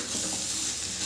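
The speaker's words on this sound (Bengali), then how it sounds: "ঢাকনাটা খুলে আবারও আমি নেড়ে দেব।" Young jackfruit fries in a pan while being stirred, producing a dense, continuous sizzle with soft scraping of the spoon close by.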